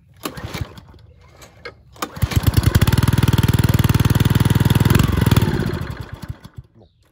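Small petrol engine with a carburettor sputtering through a few weak attempts, then catching into a loud rough run for several seconds before slowing and stalling out, heard up close.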